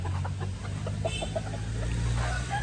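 Chickens cluck in a poultry breeding pen on a farm, a few short bursts over a steady low hum, moderately close, with no talking.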